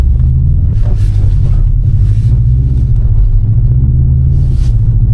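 A Subaru STI accelerates on an icy, snowy track, its engine a loud, constant low rumble with wind buffeting the microphone throughout.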